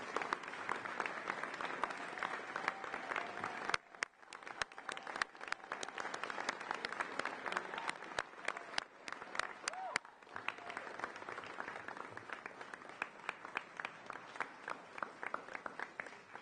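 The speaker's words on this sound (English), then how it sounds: "Please give Jordan Short a round of applause as she accepts this award." Sustained audience applause fills a high school senior awards ceremony as an award is accepted, steady clapping from many hands with a brief dip in the middle before it picks back up and continues.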